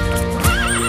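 A horse neighs in a Playmobil horse farm toy advert, a single bright, wavering whinny standing out over a busy bed of music and effects, close and fairly loud, lasting under a second.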